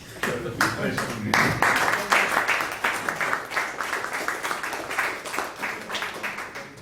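Conference audience applauding speakers at the close of a talk on electrical conductivity in wide band gap oxides; steady, dense clapping from many hands fills the room, sustained throughout at moderate loudness.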